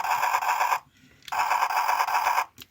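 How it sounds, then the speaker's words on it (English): Electronic helicopter sound effect from a Transformers Energon Optimus Prime toy: a rapid, buzzy, pulsing tone played twice with a short gap between, then a brief chirp, loud and close through a small speaker. "you have the helicopter noise."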